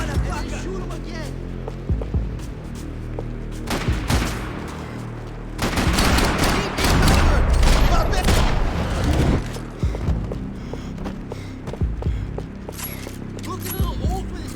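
Gunfire in the Max Payne 3 video game, with scattered shots early on and a dense, loud burst of rapid fire through the middle, while people shout excitedly over the action.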